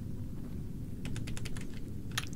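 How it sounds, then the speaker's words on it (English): Quick bursts of typing on a computer keyboard during a PC session of Oblivion: a run of several crisp, close keystrokes in the second half, ending in a final cluster, over a low steady hum with no talking. "Keyboard work."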